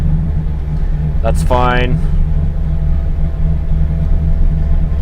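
A car engine idling in neutral at about 750 RPM makes a steady low rumble throughout, with a man's short spoken remark briefly over it.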